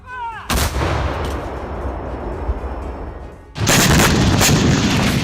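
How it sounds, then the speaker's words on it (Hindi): Heavy artillery fire in the Russia-Ukraine war, Russian guns shelling Ukrainian positions, booms out in sustained, loud bursts, with a rumbling barrage that swells again toward the end. "रूस ने यूक्रेनी ठिकानों पर तोप गोलों की बारिश कर लिया है"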